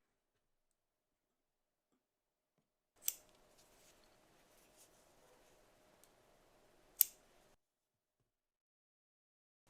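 Scissors snip the yarn free from a piece of single crochet tapestry work, two crisp cuts a few seconds apart with a faint rustle of handling between them, close and quiet.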